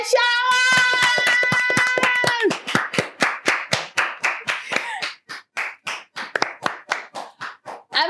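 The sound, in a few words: audience applauding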